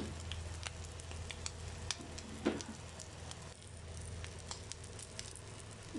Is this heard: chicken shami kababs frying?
yes